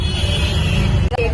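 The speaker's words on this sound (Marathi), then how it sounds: "ट्रॅफिक" Road traffic produces a steady low rumble of car engines close by, with a short break at the very end.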